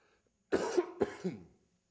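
A single person coughs twice in quick succession, close and fairly quiet, with silence before and after.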